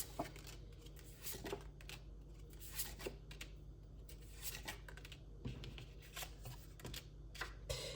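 Fortune-telling cards being shuffled, a quiet close series of papery flicks and light taps that recur irregularly through the clip.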